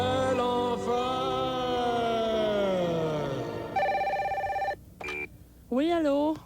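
An old-style telephone bell rings in short loud bursts, heard after a sustained tone and other radio-style sounds on a Quebec comedy radio broadcast, with a voice nearby.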